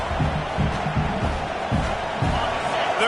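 A football stadium crowd roars in a sustained, dense wash of cheering for the defense during a red-zone stand at a college game, with rhythmic bursts of chanting and stomping rising through the steady din.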